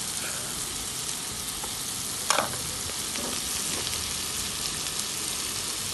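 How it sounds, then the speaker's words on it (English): Onion frying in butter in a pan for coq au vin, a steady broadband sizzle throughout with a brief louder crackle and stirring scrape midway, close and alone. "And then we add the onion."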